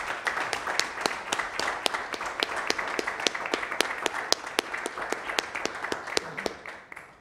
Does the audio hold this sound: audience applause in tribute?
yes